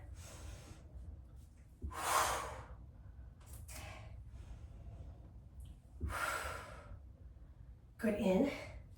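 Heavy exhalations and gasping breaths during a cardio and core interval workout with a medicine ball, coming in bursts every couple of seconds, close and fairly loud.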